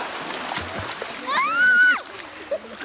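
Water splashing in a cold river during an afternoon swim, a few soft splatters over steady flowing-water background, with people talking and a brief exclamation in the middle.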